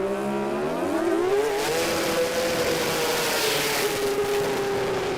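Car doing a burnout at the Garrett Brisbane Jamboree motorsport event, a loud sustained engine roar that rises in pitch and holds at high revs, with tire hiss building underneath, continuous and close.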